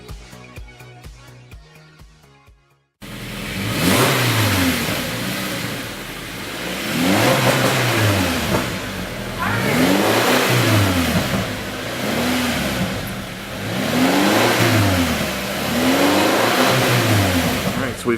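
A 2018 Subaru Crosstrek engine fitted with an AVO cat-back exhaust revs repeatedly, loud and close, each rev rising and falling in a steady rhythm after a brief burst of music at the start.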